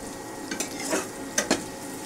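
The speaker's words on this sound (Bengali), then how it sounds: "ডিম আর পেঁয়াজ ভাজা শেষ, এখন আমি মাশরুমগুলো দিয়ে দিব। মাশরুমগুলো দিয়ে মাশরুম ভাজে নেব।" Mushrooms added to a pan where egg and onion were just fried, giving a steady low sizzle with a few louder stirring scrapes and bursts of spatter, close by and with no talking.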